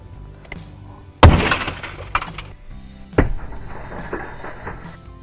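A car safety hammer smashes a car window, landing one loud sharp crack with crunching glass. A second strike and scattered tinkling and crumbling glass follow, close up.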